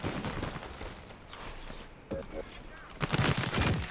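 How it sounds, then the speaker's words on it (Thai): Rifle fire from an M416 in a video game, with bursts of shots and bangs that rise again near the end, over a busy, noisy battle background with speech mixed in. "มุมนี้ยิงกันดูเดือดครับ"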